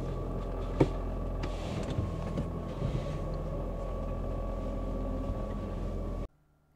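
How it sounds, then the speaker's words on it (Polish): The petrol engine of a 2024 Dacia Jogger Hybrid 140 runs at low speed to charge the traction battery: a faint, steady low drone with a soft hum inside the cabin, ending abruptly. "od czasu do czasu silnik spalinowy będzie się uruchamiał w celu doładowania akumulatora trakcyjnego, a przy mniejszych prędkościach brzmi to tak"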